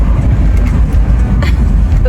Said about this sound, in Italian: Siamo sulla nostra auto.